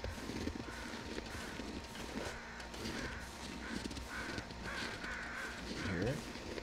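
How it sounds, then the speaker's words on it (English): Crows cawing in the wilderness of the survival game The Long Dark, several harsh caws in a loose series, distant and faint under a player talking. "Wait, I hear birds up this way, actually."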